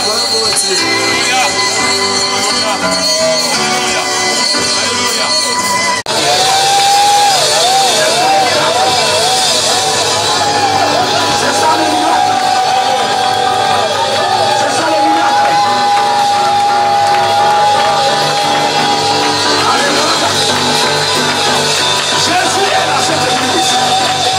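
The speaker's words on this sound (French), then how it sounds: "Alors que l'église acclame le Seigneur très fort" A church congregation cheers and acclaims loudly and continuously, with a crowd roar, yells and sustained, wavering raised voices filling the space at a high level.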